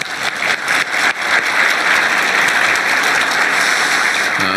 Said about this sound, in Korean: 박수라도 한번.